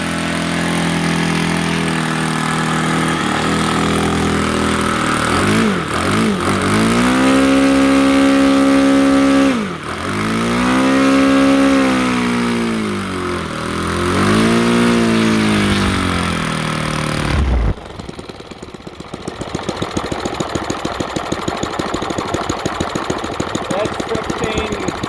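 A Saito 150 model aircraft four-stroke engine running on gasoline, idling at about 1,600 RPM, loud and close with a steady throaty putter that rises and falls before cutting to a quieter, rougher note.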